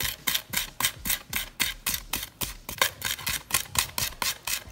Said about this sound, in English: I'm gonna do this motion that sort of grinds the garlic